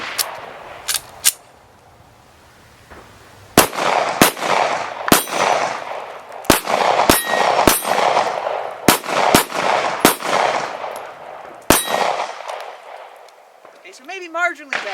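Springfield XDM 5.25 Longslide 9mm pistol fired in a series of about a dozen sharp, loud shots with irregular pauses between, echoing briefly, then a short voice at the end.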